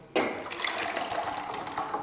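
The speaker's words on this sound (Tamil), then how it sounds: "இந்த டைமில் நம்ம பருப்பு தண்ணி சேர்த்துக்கலாம்" Dal water poured into a pan of warming rasam on the stove gives a steady splashing, gurgling pour that starts abruptly and runs continuously at close range, with no talk over it.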